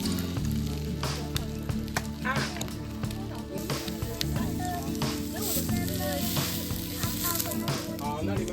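Food sizzles and fries in a pan at an outdoor camping cookout in Miaoli, Taiwan, a steady loud crackle running throughout with scraping stirs and clatter, while voices talk nearby over it.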